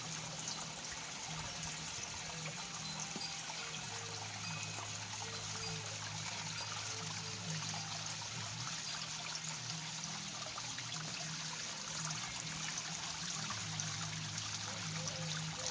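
Continuous soft trickling and splashing of water from a small fountain waterfall in an outdoor turtle pen, steady and unbroken throughout, with a faint low hum beneath.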